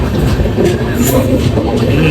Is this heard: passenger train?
yes